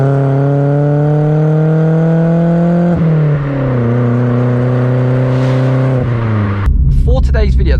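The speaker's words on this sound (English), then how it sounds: "just let you guys listen to the car" A Vauxhall Corsa's engine drones steadily from inside the cabin while driving around bends, the pitch dropping twice as revs fall and settle, before a voice briefly speaks near the end.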